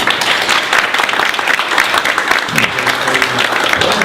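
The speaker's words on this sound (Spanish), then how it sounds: "Un aplauso para ellos, por favor." An audience at a community center tribute event gives the panel a round of loud, steady applause, with voices faintly audible beneath the continuous clapping.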